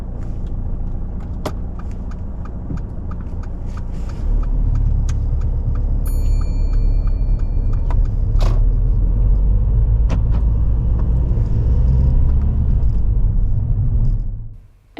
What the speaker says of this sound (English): drive off from here